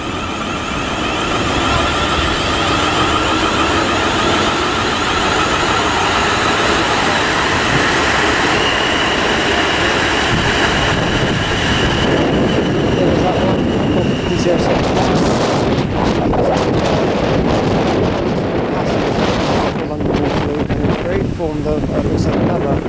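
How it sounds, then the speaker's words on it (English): South Western Railway 1211 service to Basingstoke, a Class 450 unit pair on the South Western Main Line at Weybridge, rumbling steadily past at close range, with wind buffeting the microphone and a voice speaking over it. "Here you go now, is the 1211 Southwestern Railway service to Basingstoke."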